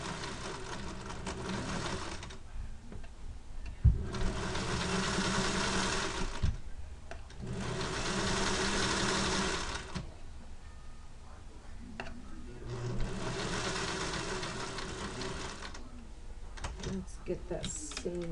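Sewing machine stitching a sleeve seam, several bursts of steady humming needle rattle separated by short pauses with small clicks and handling noises, with brief talk in the gaps.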